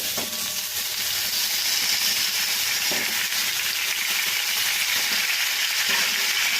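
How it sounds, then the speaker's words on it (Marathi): Chopped drumsticks (moringa pods) fry in hot oil with cumin and turmeric in a pan, giving a steady, loud, continuous sizzle with a few soft clicks of stirring and no voices. "आपण आता त्यामध्ये चिरलेल्या शेवग्याच्या शेंगा टाकणार आहोत"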